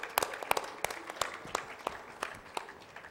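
Sparse, faint handclaps from a small audience at a literary festival book launch welcome author Namita Gokhale, with a handful of distinct claps spaced irregularly.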